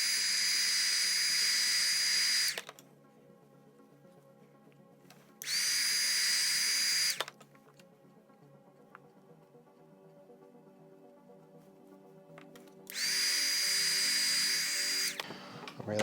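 A heat gun blasts in three bursts while beeswax is melted onto a shoe sole, each a loud steady whoosh of about two to three seconds separated by quiet pauses.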